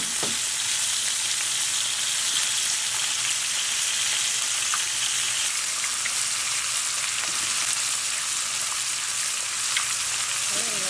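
An egg frying in a pan for tofu fried rice, a loud, constant crackling sizzle like steady rain, close up, with a few faint clinks and no speech.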